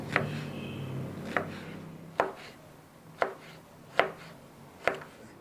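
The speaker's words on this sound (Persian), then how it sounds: "کدوها رو هم به این صورت برش میزنیم، همه رو نازک. به این صورت برش های ژولین میزنیم." A knife cuts peeled zucchini into thin julienne strips on a cutting board, six sharp, crisp chops at an even, unhurried pace, close and clear with no talking.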